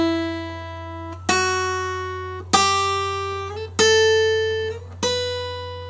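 Guitar notes plucked one after another as fingers press different spots on the neck, about five ringing notes that shift in pitch and fade between attacks, clear and close over a steady low hum.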